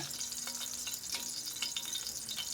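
Chopped garlic fries in oil over low heat for a sautéed peanut dish, giving a steady close sizzle sprinkled with sharp little crackles and pops throughout, with no voices.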